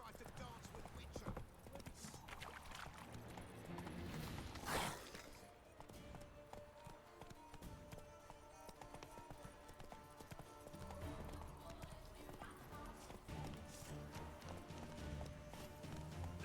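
In The Witcher 3, the horse Roach gallops with a rapid, steady clip-clop of hooves up close, mixed with game sounds and a brief sharp swish partway through, while a voice talks over it.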